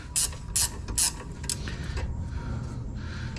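Ratchet clicking on brake caliper bolts of an Infiniti M37X, three loud bursts of rapid clicks up front, then fainter mechanical handling beneath steady background noise.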